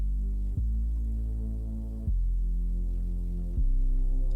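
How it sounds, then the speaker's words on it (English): Very low, sustained bass notes in a music mix, lifted by a bass rider plugin, droning and throbbing with three note changes and a slight rise in level on the last, no talk. "You can hear that really low note gets brought up by the bass rider."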